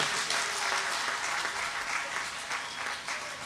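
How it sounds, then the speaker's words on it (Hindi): An audience at a poetry recital in Bhiwani's cultural hall applauds poet Dr. Kirti Kale, a dense, steady roar of many hands clapping throughout at even loudness. "मैं चाहता हूं कि एक बार पूरा भिवानी उनके लिए तालियां उठाएं"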